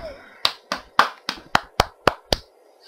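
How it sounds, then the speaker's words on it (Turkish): Eight sharp hand claps in a steady rhythm during a GTA Vice City game session, close and fairly loud, with faint game sound underneath. "Şak şak şak sesleri, alkış seslerim arkadaşlar"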